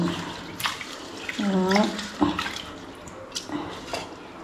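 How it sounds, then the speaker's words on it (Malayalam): Ration-shop rice is swished and rinsed by hand in water in a home kitchen. Splashing and sloshing come in bursts with the odd clink of a vessel, while a person talks nearby. "നന്നായിട്ട് കഴുകി വരണം"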